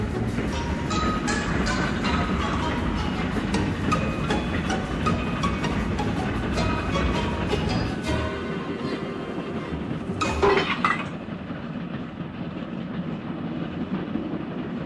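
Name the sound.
steam engine train rushing past on rails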